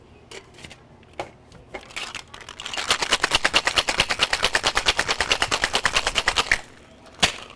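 Ice rattling hard inside a cocktail shaker while mixing a Dark and Stormy, a fast steady run of sharp clacks lasting about four seconds, close and loud, with a final knock after.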